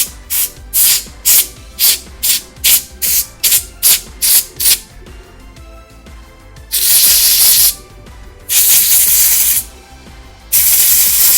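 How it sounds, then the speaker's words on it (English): Cleaner sprayed from a trigger bottle onto a computer mouse: a rapid series of about a dozen short sharp hisses, then three long loud sustained sprays, close up with no talking. "give it a little bit of a spray."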